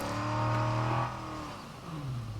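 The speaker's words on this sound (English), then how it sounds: "This car sounds ace, though." Car engine in the zombie survival video game State of Decay 2 revs loudly with a steady harmonic drone, then eases off and settles into a lower idle before climbing slightly again.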